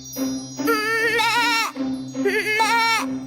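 A goat bleats loudly and close in two long, wavering cries, separated by a brief pause, with a faint low hum underneath.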